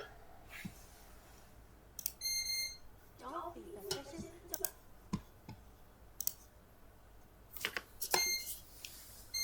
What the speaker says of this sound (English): Is anyone else hearing beeping?